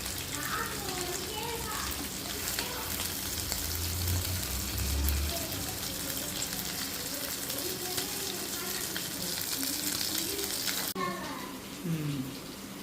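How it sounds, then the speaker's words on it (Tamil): Onions frying in a pan for a prawn gravy, a continuous soft sizzle with faint stirring, while someone talks over it and children's voices sound in the background. "இப்போ அந்த வெங்காயம் நல்லா வதங்கிடுச்சு"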